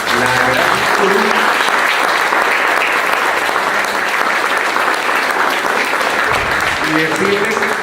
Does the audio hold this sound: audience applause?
yes